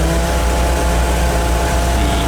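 A VW bus engine idles steadily with its AC compressor engaged, a continuous low mechanical drone and hum that holds an even level throughout without revving.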